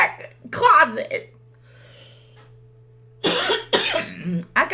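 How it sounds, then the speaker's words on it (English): A person coughs hard a few times in bursts, close and loud, with speech from the same voice around the coughs. "I got this crazy cough."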